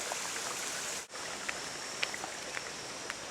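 A small trickle of water flowing near a waterfall and volcano, with a steady, soft wash broken by faint drips and splashes throughout.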